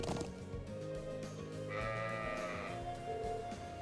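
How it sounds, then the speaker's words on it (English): Sheep bleating in the video game Trails of Cold Steel, a wavering bleat heard over steady game music and ambience, loud and alone without talk. "Sheep."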